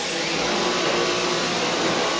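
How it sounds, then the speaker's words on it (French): A Dyson cordless vacuum cleaner runs at its lowest speed setting, giving a steady, close, continuous whine and airy rush that holds level from start to finish with no talking. "Donc là, je suis en vitesse 1. Pour l'actionner, j'actionne ici le petit bouton, passer l'aspirateur Dyson."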